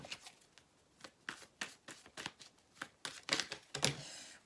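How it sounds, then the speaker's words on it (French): Playing cards being laid down and dropping onto a surface during a card reading, a series of quiet, crisp slaps and flicks in an irregular rhythm, close and alone. "j'ai beaucoup de cartes qui tombent"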